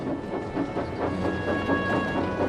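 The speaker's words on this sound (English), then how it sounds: "Donald set off with the breakdown train" A breakdown train moves along railway tracks in a rhythmic, rumbling run with repeated clacking pulses and a faint steady whine above it, continuous and fairly close.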